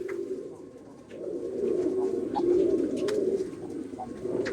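Madrasi pigeons cooing in a loft at Ichhapur, Kolkata, with low, rolling coos overlapping continuously at close range and a few faint chirps above.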